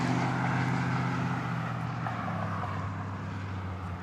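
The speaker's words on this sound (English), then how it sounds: "on final approach. That would be flight 4580, a max 8" Boeing 737 MAX 8 airliner on final approach at Dallas Love Field after dark, a low, steady engine drone with a humming tone, moderately faint and slowly easing off.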